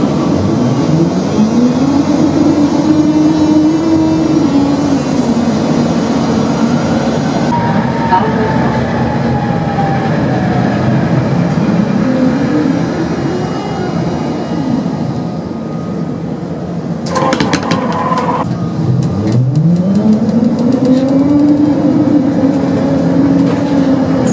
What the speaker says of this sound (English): this T3 tram sounds like it's got an Eastern European DC pulsing drive